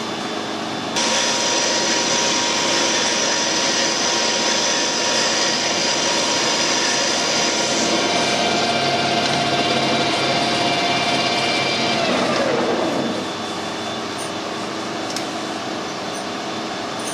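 Metal lathe turning down a steel part for a vintage car door handle, a steady loud whirring hum with a cutting whine that winds down near the end, no talk.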